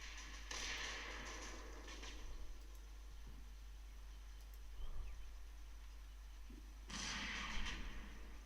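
Scattered gunfire from a Combat Mission Normandy battle, sounding as distant, muffled reports with a couple of louder bursts of crackling shots, no voices over it.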